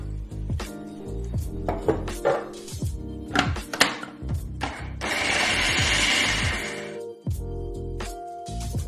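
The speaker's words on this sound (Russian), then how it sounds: "Я готовлю тесто с помощью кухонного комбайна" A food processor blends flour with chilled butter for ginger cookie dough, running as a steady whirring roar for about two seconds after a series of knocks and clatters from handling the machine; no one speaks.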